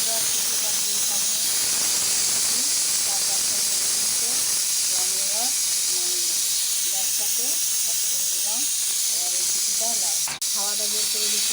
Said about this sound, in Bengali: হাওয়াটা বের করে দিচ্ছি বন্ধুরা, এখানে হাওয়া বের করে দিচ্ছি।